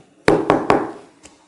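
Knuckles knock on an apartment door: three quick, loud raps in close succession, then a single softer knock after a short pause, in a quiet indoor space.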